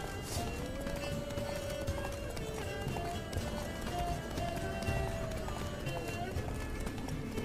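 Galloping horse hooves in The Witcher 3, a steady rapid clip-clop run carried under a continuous game score and ambient sound, mid-distance and even in level throughout.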